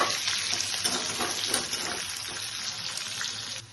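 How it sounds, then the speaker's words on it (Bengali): Potatoes fry in hot oil, used for frying fish, in a home kitchen pan, giving a steady close sizzle and crackle with some stirring, continuous and moderately loud with no talk. "আলুগুলোকে ফ্রাই করে দিচ্ছি।"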